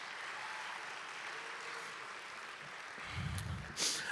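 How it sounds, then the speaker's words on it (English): Faint, continuous clapping from a concert audience at a high school spring band concert, applauding the stage chair who runs lights and sound, with a few sharper claps and a soft thump near the end. "So give him a round of applause as well."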